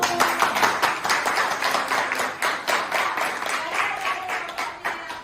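Applause for a student group in a university class, steady clapping from several people that fills the room throughout, loud and continuous.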